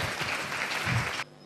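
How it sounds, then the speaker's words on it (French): Loud crowd applause with cheering fills the space, a dense steady clapping roar honoring the king, cutting off abruptly near the end. "Acclamons très fort pour le roi"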